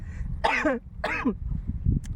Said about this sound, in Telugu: దగ్గు వచ్చేస్తుంది చూసారు కదా ఫ్రెండ్స్